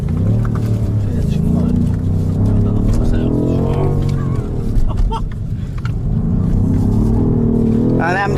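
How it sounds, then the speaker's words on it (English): A 625 HP BMW M5 Competition engine revs and surges through a wheel spin, the pitch climbing and falling loudly under steady conversation inside the car. "just do a little wheel spin"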